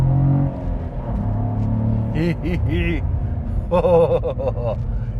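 A Ford Fiesta ST's engine pulls hard on a mountain road, a loud, close rumble rising in pitch as it accelerates, with people talking over it.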